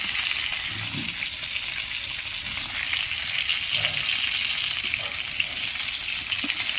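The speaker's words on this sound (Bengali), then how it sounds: "বাকিগুলো আমি এখন লাল লাল করে ভেজে নেব" Rohu fish pieces frying in hot oil give a steady, close sizzle with constant crackle and no talk over it.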